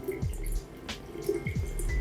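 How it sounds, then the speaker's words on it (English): Water from a Keva next-generation water ionizer pours steadily into a bottle, a close, continuous trickle and splash over a low background hum. "now we are pouring this water in this bottle that you can see"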